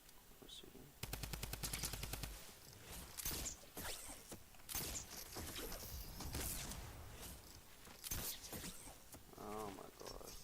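Rapid bursts of video-game gunfire, a loud machine-gun-like rattle early on followed by scattered single shots and impacts, with a player's voice talking over the action.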